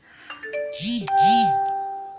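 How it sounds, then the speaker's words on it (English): A bright two-tone chime rings out twice, ringing and sustained, like a phone alert, with soft background tones beneath it. "My phone is not stopping to make noises today."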